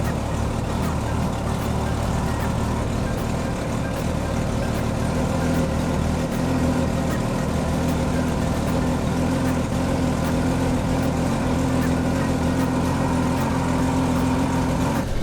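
A Honda Goldwing motorcycle engine idles steadily at close range around 800 RPM, a continuous low hum that holds even for the whole stretch.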